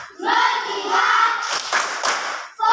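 Class of students performing a unison clapping chant, a loud group shout followed by a few sharp synchronized claps, close and energetic.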